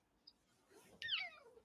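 House cat giving a single short meow, faint and close, in a quiet room after a tiny click.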